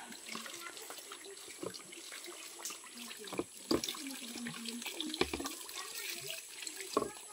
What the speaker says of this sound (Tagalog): Agas-agas ang tubig oh. Kusog kayang tubig dire sa ila ni kuya.